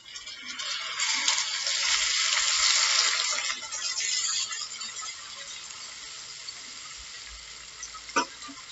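Tomatoes added to frying onions in a pan for dhaba-style egg bhurji, giving a strong broad sizzle that swells in the first few seconds, then settles into a softer steady hiss, with a clink near the end.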